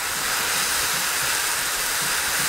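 Steady sizzling hiss of spices and fenugreek leaves frying in a pan for lentil dhal, continuous and close, with no talking.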